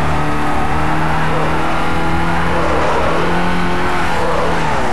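A tuned street-racing car roars in the Need for Speed: Underground video game, a loud, steady, continuous engine note that holds high revs throughout with no talk over it.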